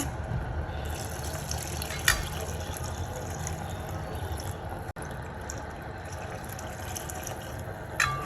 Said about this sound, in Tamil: இதில் வந்து 600 ml தண்ணி இருக்குது,